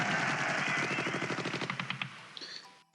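Artillery fire in the Civilization 2 video game: a dense roaring rattle of rapid blasts that thins into a few separate cracks and fades out, with no voices.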